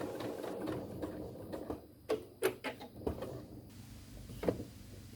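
A home sewing machine runs a seam on a sloth sleep mask, stitching elastic ends just inside a quarter-inch seam allowance; short bursts of motor whir and needle clatter stop and start, close by and fairly quiet.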